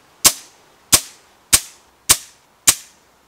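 An FX Dreamline Laminate .177 air rifle rated at 18 ft-lbs fires five sharp, crisp reports at an even pace about 0.6 seconds apart, each a loud snap that decays quickly into quiet.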